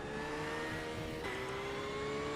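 A Mazda race car in the iRacing sim runs laps on track, its engine giving a steady sustained drone with a brief pitch shift midway as it shifts or changes throttle, and no talk.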